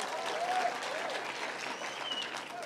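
A crowd at a Kenyan political gathering applauds for Sabina Chege, a dense, steady patter of many hands that stays moderately loud and somewhat distant throughout.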